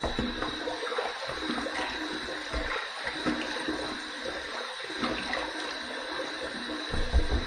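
Water runs steadily in a bathroom sink as a razor is rinsed mid-shave, a constant hissing flow lasting the whole stretch with no talking.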